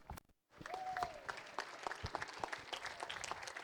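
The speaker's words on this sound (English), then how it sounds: "let's give them one more round of applause to the both of them" Wedding reception guests clapping for the couple after toasts, a modest round of applause starting after a brief pause, with a short whoop near the start.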